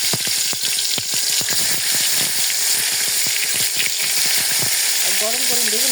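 Eggplant slices frying in hot oil in a wok, giving a strong continuous sizzle with frequent crackles and pops and a brief clatter of stirring near the end.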